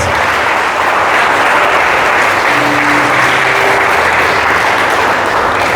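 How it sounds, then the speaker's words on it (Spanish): A church congregation claps for God in a loud, sustained burst of applause, dense and even throughout, with faint tones of music underneath and no one speaking. "Dale el mejor aplauso al Rey de Gloria, al Señor de señores."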